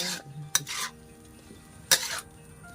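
Instant noodles stir-fried in a pan with leftover vegetable stems, with a few sharp scrapes and clinks of a utensil against the pan over a low sizzle, close and moderately loud.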